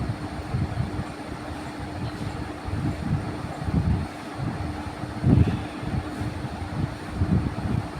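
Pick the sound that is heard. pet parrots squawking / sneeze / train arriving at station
train arriving at station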